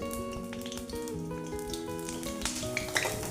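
Pumpkin flower pakoras fry in hot oil with a steady, close crackling sizzle that stays busy throughout, and faint pops rise near the end.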